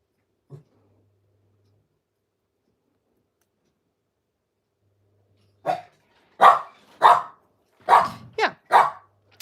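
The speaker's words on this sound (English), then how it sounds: "Sorry for the dog." A dog barks indoors: one faint yap early, a long quiet stretch, then a close burst of about six sharp barks in quick succession.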